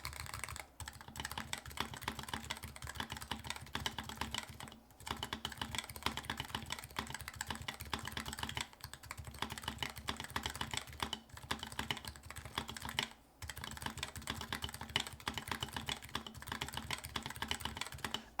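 Rapid, steady clicking from typing on a Dao mechanical keyboard, a continuous patter of keystrokes with a few brief pauses, close and fairly quiet, with no voices.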